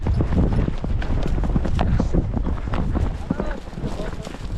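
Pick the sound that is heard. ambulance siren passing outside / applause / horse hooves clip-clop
horse hooves clip-clop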